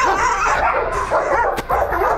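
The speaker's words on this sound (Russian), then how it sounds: "Боевые собаки." Fighting dogs at a kennel bark and yip loudly and close by in an agitated, overlapping burst with whimpering edges.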